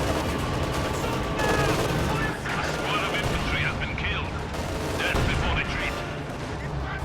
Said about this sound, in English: Every shot bouncing against that Vet 3 Panther.